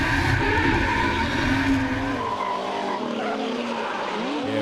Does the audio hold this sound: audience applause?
no